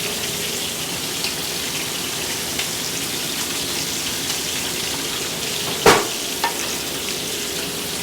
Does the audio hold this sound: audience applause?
no